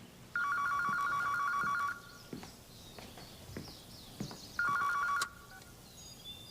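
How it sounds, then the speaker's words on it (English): Telephone ringing indoors, two clear electronic ring bursts separated by a pause, each about a second and a half long, with faint clattering and footsteps in between. "I promise you that phone's going to ring any day now"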